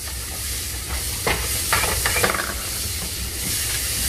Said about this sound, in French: Farine bien cuite dans beurre.